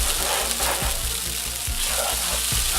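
Instant noodles frying in a pan, a steady close sizzle with soft stirring scrapes at intervals, no talking.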